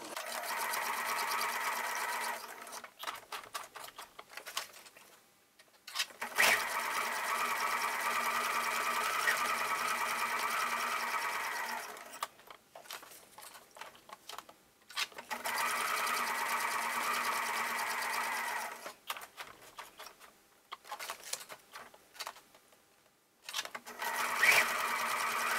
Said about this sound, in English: I'm going to sew around this first